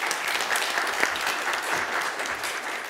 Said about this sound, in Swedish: Alla en applåd?